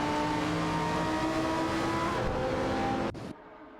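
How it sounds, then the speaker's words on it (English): Race cars, including a Gillet Vertigo and a Dodge Viper GT2 sharing the track, roar loudly and steadily in a video game race with layered engine whine, before the sound cuts off abruptly near the end. "with Hogged03 driving a Gillet Vertigo"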